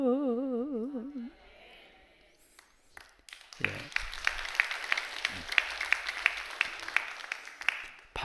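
A church congregation bursts into applause after a hymn, starting after a sung phrase and building into a steady, moderately loud patter of many hands.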